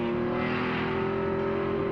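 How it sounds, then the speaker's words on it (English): Group 44 Jaguar XJ-S Trans Am race car engine holding a steady, loud, sustained drone with a strong tonal whine, close and continuous for the full two seconds, with no voices. "Tullius not always the fastest in that Group 44 Jaguar, but the checkered flag falls usually in the winner's circle"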